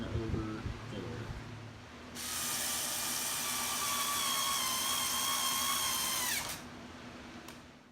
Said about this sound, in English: now I'm going to put on the hinge hardware and do pilot holes